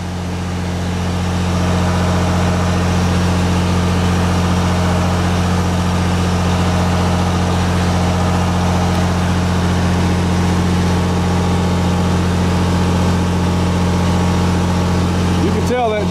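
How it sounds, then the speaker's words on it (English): A Miller 400D welder generator runs under full load, giving a loud, steady, low engine drone with a constant hum that holds unchanged from start to finish. "You can tell that generator's under full load over there."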